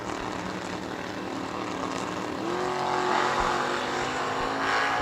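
Drag racing cars launch down the strip at World Wide Technology Raceway, a loud, steady engine roar from the pair that rises slightly in pitch partway through, with no talk over it.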